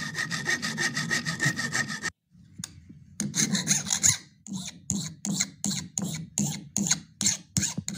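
A hacksaw rasping back and forth through a circuit board, steady fast strokes, then a pause, then slower, distinct strokes close up.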